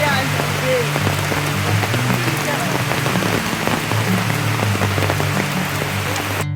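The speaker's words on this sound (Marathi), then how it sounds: "पाऊस चालू झाला." Steady rain falls outdoors near a village, a dense close patter on surfaces that keeps going without a break, with a low droning hum running underneath throughout.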